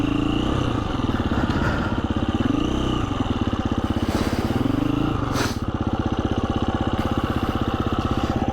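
A KTM off-road motorcycle idles and putters on a green lane with a rapid, steady mechanical clatter, close and loud, the engine note swelling briefly a couple of times.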